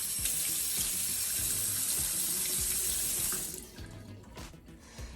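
A tap runs steadily into a sink to soak a washcloth in hot water, loud and continuous for about three and a half seconds, then shuts off, leaving quieter drips and small handling sounds.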